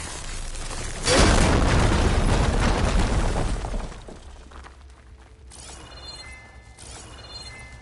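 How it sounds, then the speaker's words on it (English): An explosion blasts something open in Horizon Forbidden West, a loud sudden boom that rumbles for a few seconds and then settles into quieter debris and mechanical clatter. "Let's blast this open."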